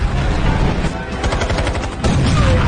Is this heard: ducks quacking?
no